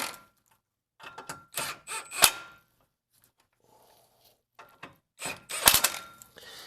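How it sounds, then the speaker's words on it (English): An impact tool snugs down the nuts and bolt on a front CV axle of a 2012-2016 Honda CR-V: several short, sharp bursts of rattling hammering, close up, with pauses between them. "we're gonna snug them down with our trusty impact tool"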